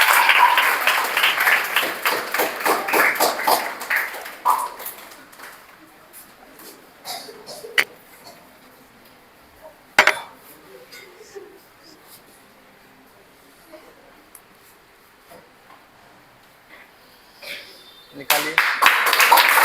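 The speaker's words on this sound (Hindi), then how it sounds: "तालियां नहीं रुकने चाहिए भाई" An audience at a coaching-class result announcement claps for a Class 9 student, with loud bursts of applause at the start and again at the end and a quieter stretch between that carries speech.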